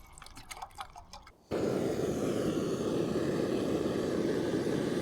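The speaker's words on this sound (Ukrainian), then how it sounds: "Візьмемо прям оригінальний цей пальник." A portable gas camping burner ignites after a few quiet clicks and handling sounds, then roars with a loud, steady broadband rush that fills the rest of the moment up close.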